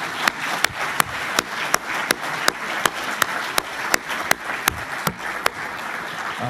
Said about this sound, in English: I'd like to give you all a round of applause for participating in our first Leadership Summit.